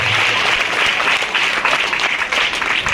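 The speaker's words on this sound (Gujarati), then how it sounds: "તાળીઓના નાદ સાથે આપણે આ શાળાને" An audience at a school celebration of girls' education and school admission gives dense, sustained applause to honor the school's achievement, a continuous wash of many hands clapping with little talk.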